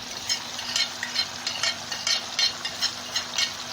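Mackerel sizzles in a hot pan while a utensil stirs it in quick, regular scraping strokes, close and moderately loud.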